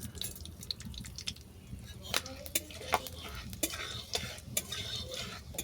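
Panch phoron spices sizzle in hot oil left from frying fish-egg fritters, a soft crackle broken by sharp spatula scrapes and taps against the pan.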